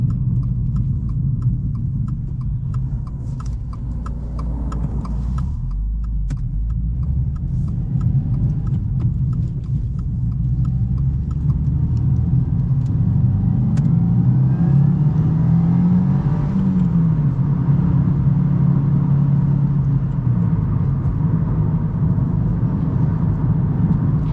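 A 2022 Subaru WRX with a manual gearbox accelerates, its engine note droning and climbing smoothly in pitch as revs build, fairly close and steady, with no talking.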